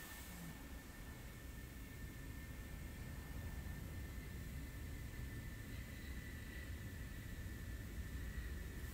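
An F-16 jet engine in the flight simulator DCS World makes a continuous broad roar with a thin steady high whine, holding an even, moderate level throughout with no talking.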